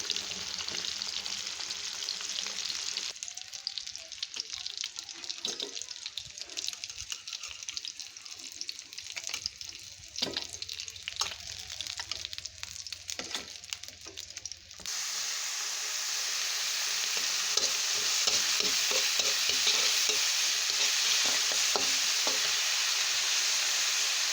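Tilapia pieces frying in oil in a pan, a long steady sizzle with scattered crackles and spoon stirring, the hiss growing louder and denser in the second half.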